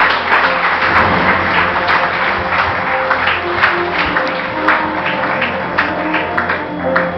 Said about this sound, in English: Let's have a huge round of applause for Space Art for the project Good Earth River Song.